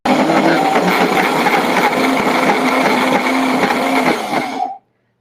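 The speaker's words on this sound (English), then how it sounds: "I'm going to put that back on the blender and just give it a good whirl" Countertop blender whirring steadily at high speed while mixing vanilla collagen powder into a batch, a loud continuous motor drone that cuts off abruptly near the end.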